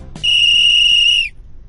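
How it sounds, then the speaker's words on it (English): A whistle blown in a Booba children's cartoon gives one loud, clear, steady blast lasting about a second, followed by quiet with no talking. "Suddenly, everyone hears a whistle, and Noodle appears."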